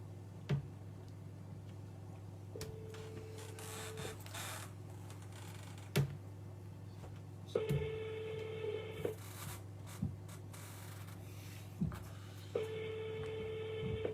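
Outgoing telephone call ringing during an on-air broadcast: three evenly spaced ring tones about five seconds apart, moderately loud, with faint clicks and ticks in between and no talking.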